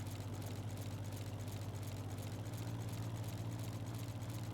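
A farm tractor engine idles steadily, a low even throbbing drone that continues unchanged, moderately close and quiet, with nothing else heard.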